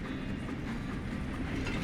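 A train in Red Dead Redemption 2 rumbles past close by, a steady low roar of wheels and rolling cars with faint rhythmic clatter, no voices.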